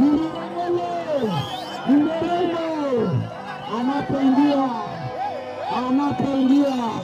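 A crowd at an outdoor political rally ululates in long, wavering trills that rise and fall in repeated overlapping waves, loud and close, mixed with cheering.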